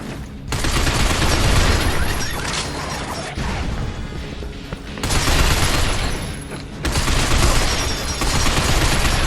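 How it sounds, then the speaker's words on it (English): Heavy, sustained automatic gunfire with crashing impacts in a sci-fi first-person shooter video game, loud and dense in three long bursts separated by brief gaps. "Dan, watch out for that machine gun fight!"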